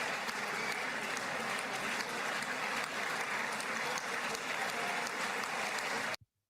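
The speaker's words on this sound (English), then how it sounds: "What do they just clap for a couple minutes?" Sustained applause from a large crowd at a political speech, played back as a recording. The clapping is continuous and even at full strength, then cuts off abruptly.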